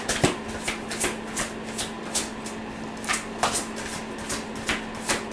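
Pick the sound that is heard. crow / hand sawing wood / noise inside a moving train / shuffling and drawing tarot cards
shuffling and drawing tarot cards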